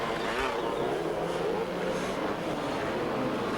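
Motorcycles racing on the beach sand at the Weston Beach Race, a dense, continuous roar of many engines revving together at a steady, loud level.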